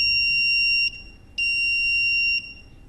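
A buzzer on an Arduino Uno flame-sensor kit sounds two long, piercing, steady electronic beeps, close and loud, with a short gap between them.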